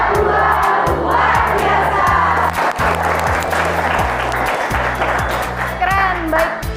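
A high-school class clapping a rhythmic spirit chant together in a classroom, loud group claps in a repeating pattern mixed with shouted voices, a brief break midway before the chant resumes.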